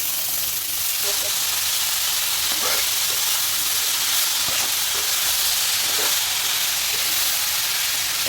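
Banana blossom just dropped into a hot kadai: a loud, steady hissing sizzle that fills the scene, with a few soft stirring knocks and a voice talking faintly beneath.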